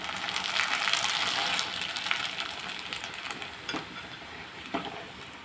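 Appadalu (papads) fry in hot oil in a pan, giving a steady, close crackling sizzle that is loud at first and then eases, with a few sharper pops near the end.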